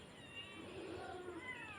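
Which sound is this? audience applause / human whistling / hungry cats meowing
hungry cats meowing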